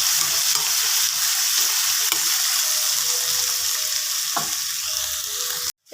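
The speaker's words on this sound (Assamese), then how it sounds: "ধুনীয়াকৈ ভাজি লৈছোঁ" Onion, garlic and ginger fry in a pan with a continuous close sizzle, punctuated by occasional spatula scrapes and stirring clinks, ending abruptly.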